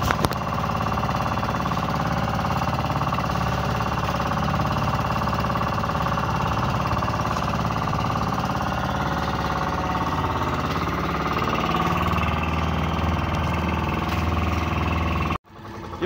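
A motorized fishing boat's engine chugs steadily as the boat heads out to sea, a loud, close, continuous knocking drone that runs unbroken and then cuts off abruptly near the end.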